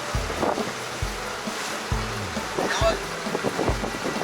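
Broad rushing water sound of sea waves with wind noise, joined by a low rhythmic engine thumping from a boat at sea off the Sundarbans, West Bengal, steady and fairly loud.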